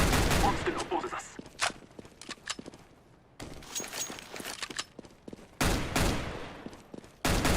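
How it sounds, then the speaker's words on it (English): Gunfire in a first-person shooter bomb-defusal match, loud bursts of rapid shots and single cracks with footsteps between them, broken by brief quieter gaps, under faint game voice lines. "You are shooting me."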